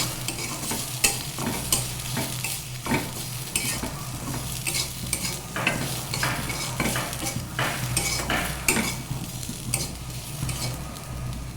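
Steady frying sizzle of spices and chilli in oil in a pan with repeated scraping and stirring strokes from a utensil, close by, no voices.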